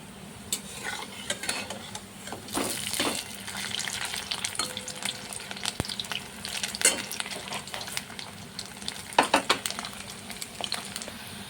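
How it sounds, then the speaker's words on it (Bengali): Onion pakoras deep-frying in hot oil, a steady bubbling sizzle broken by repeated scraping and clinking of a utensil in the pan, moderately close. "এখন বড়াগুলি ভেজে নিই, বেশি দেব না, কম কম করে ভেজে নেব"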